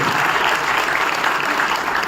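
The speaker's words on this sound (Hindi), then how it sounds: "मैं चाहता हूं कि एक जोरदार ताली आप सभी हमारे लीडर्स के लिए और अपने सभी साथियों के लिए जोरदार तालियों से सम्मान करें" Hall audience at a billionaires' conference in Shimla breaks into loud, dense applause for its leaders, a steady wash of clapping that holds at full strength throughout with no voices on top.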